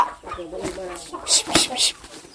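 Ducks on a rural farm give a run of harsh, squawking calls that rise into loud bursts near the end, mixed with a voice speaking nearby.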